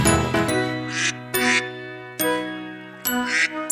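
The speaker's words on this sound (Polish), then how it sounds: "Mama kaczka mówi kwa, kwa, kwa" Cartoon-style duck quacks from a children's song, about four short, bright bursts spaced irregularly over sustained instrumental tones, loud and clear with no singing or speech.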